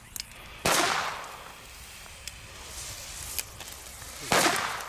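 Two loud bangs from ordinary, plain firecrackers burst several seconds apart outdoors, with a few faint pops in between and short echoing tails.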